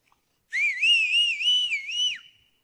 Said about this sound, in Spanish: Así que yo quería silbar y empecé.